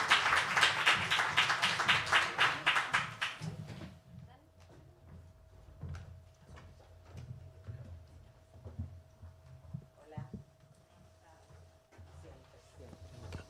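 An audience at an International Women's Day event gives a short burst of steady applause, which fades after a few seconds into quiet room sounds with scattered taps and murmurs.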